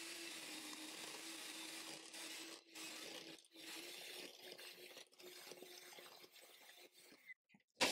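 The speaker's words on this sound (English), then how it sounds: "now I'm going to go ahead and mix these together with a hand mixer" An electric hand mixer whirs steadily through ingredients for a meal-prep dish, a close continuous buzz with brief dips as the beaters shift, cutting off near the end.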